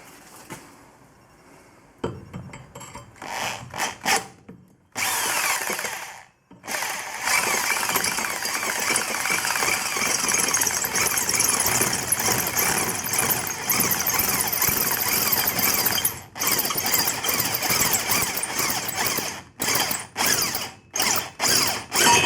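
Hand drill boring a hole through a clamped Lotus Excel exhaust part, a steady loud grinding whine running nearly continuously with a few brief pauses and restarts, no voices.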